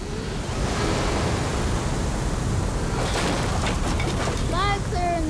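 Cartoon raft tumbling over a waterfall, a loud, steady rush of roaring water and surf filling the scene, with whistling, swooping cartoon effects and voices near the end.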